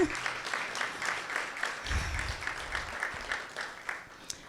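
Audience applause at a Wear Red Day community event honoring a public health department, steady moderate clapping from a crowd, with a brief low rumble midway and a few distinct claps as it tapers.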